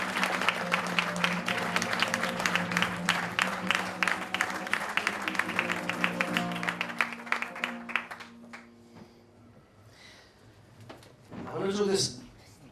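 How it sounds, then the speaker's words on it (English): Warm audience applause at a mentalist stage show, sustained dense clapping over rhythmic music for several seconds before thinning out, then a speaker's voice close by. "A very warm round of applause for them,"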